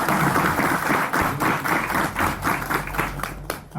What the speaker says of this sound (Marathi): यांच्यासाठी एकदा टाळ्या वाजवा